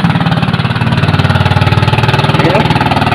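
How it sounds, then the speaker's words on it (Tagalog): A laboring fishing boat engine on Laguna de Bay, pushing through thick water lilies and smoking, sounds as a loud, close, rapidly pulsing mechanical chug with a steady throbbing rhythm and no talk over it. "talagang hirap talaga makina"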